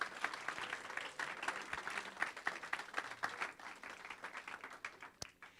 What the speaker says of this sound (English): get another round of applause for all of our presenting companies today